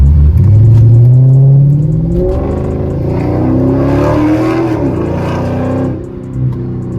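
Loud car engine revving hard on a road, rising to a strong roar then settling into a sustained growl, close by with no talking.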